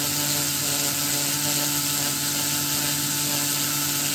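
A Dremel rotary tool with a sanding attachment lightly sands scratches out of a carving, giving a steady, close high-pitched whine with a constant motor hum throughout and no talk.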